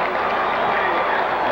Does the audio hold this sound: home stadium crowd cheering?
yes